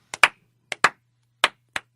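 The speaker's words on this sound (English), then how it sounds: "Slow clap." Six sharp hand claps spaced out in an uneven, deliberate rhythm, each a crisp broadband smack with a short tail, close and moderately loud over near silence with a faint low hum.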